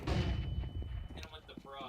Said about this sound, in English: Incendiary out. Throwing smoke. Grenade out. Throwing fire. Throwing flashbang.